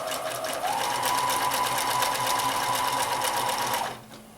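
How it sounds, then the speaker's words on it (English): A sewing machine stitches a bunny table topper in a steady, fast mechanical whir with a rapid needle rhythm, close and loud, running for about three seconds before stopping abruptly. "Now I can pivot around, do a couple stitches so I can straighten myself back up"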